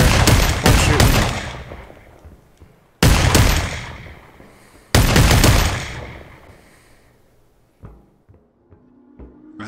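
Rapid bursts of gunfire from the VR shooter game Population One, three loud, close volleys each trailing off with echoing decay, followed by quieter scattered shots and thuds.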